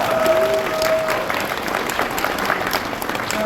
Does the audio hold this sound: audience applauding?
yes